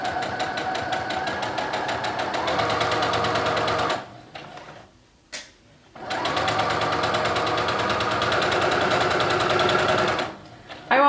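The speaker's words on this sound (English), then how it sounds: "just begin with a back stitch till I get to the edge. And then you can start sewing." Sewing machine back stitching fabric for a fox pillow, a loud steady motor whir with rapid needle chatter running for about four seconds, a short pause, then another long continuous stretch before stopping.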